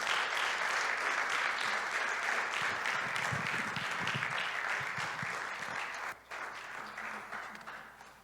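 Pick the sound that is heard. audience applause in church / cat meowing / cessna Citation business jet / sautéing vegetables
audience applause in church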